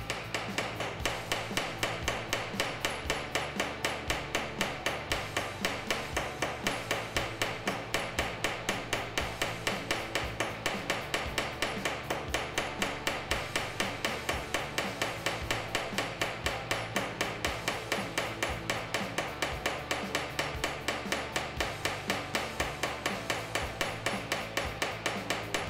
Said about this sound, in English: we're doing here is we are peening our penstock.